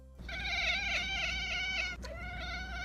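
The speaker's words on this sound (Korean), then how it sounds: "다음은 채터링을 하는 것입니다." A pet cat making a chattering call, a bright tonal warbling sound sustained for over a second, then a brief break and a shorter resumed stretch, close and clear, no voices.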